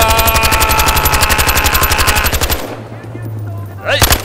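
MX4 gun in the video game Battlefield Hardline fires a long rapid automatic burst on a night Chinatown map, loud and evenly paced, then stops, leaving a low drone before a brief final clatter.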